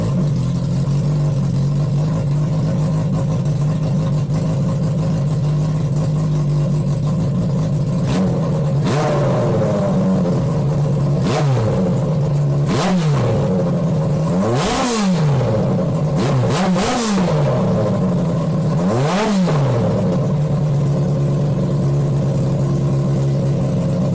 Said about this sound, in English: I just put some fresh gas in it and cleaned the spark plugs really well, and it ran great after that.